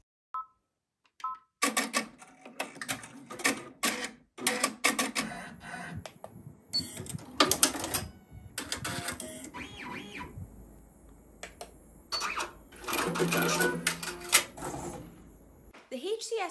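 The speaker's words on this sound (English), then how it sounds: "And here are the machines performing a cut." Happy Japan HCS2 Voyager and HCU industrial embroidery machines running a thread-cut cycle: rapid mechanical clicking and whirring bursts with brief pauses, fairly close and loud, with a couple of short beeps at the start.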